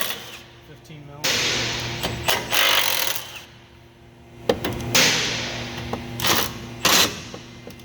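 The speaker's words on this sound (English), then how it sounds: "I'm going to suggest that maybe you loosen these nuts now." Rusty 15 mm nuts on a Ford 6.7 Powerstroke are worked loose with a wrench, giving close metallic clanks and ratcheting bursts separated by quieter pauses, with someone talking in between.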